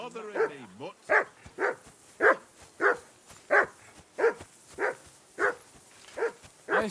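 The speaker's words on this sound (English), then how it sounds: "I assume you can hear that damn dog of yours barking." A dog in the video game Kingdom Come: Deliverance 2 barks in a steady, evenly spaced series of about a dozen sharp barks, moderately distant, with no talk over them.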